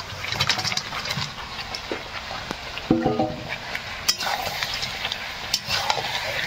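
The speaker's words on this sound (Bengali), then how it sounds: "মশলার সঙ্গে আরও একটু নেড়ে চেড়ে দেবো।" Crab pieces and potatoes are turned in a Kashmiri chilli spice masala. Repeated close spoon scrapes and clinks ride over a soft sizzle, with a faint mechanical hum behind them.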